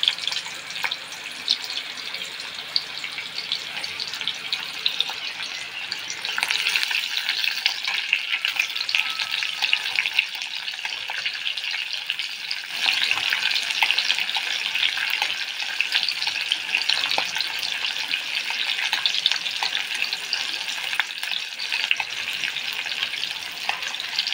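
Green chillies and a little onion fry in hot oil in a wok, making a continuous bright hiss with crackles that holds for a long stretch, near and steady, without speech.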